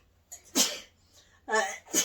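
A person sneezes twice at close range indoors, each burst sharp and loud, with a softer breath and voices in between during a relaxed girls' day chat.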